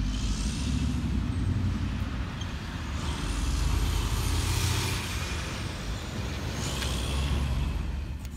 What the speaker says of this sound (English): That's a nice truck